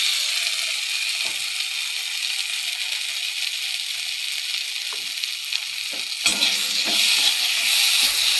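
Fried small chuno fish are stirred in a pan, with a loud, steady bright sizzle and occasional scraping knocks of the spatula. The sizzle swells near the end and no voices are heard.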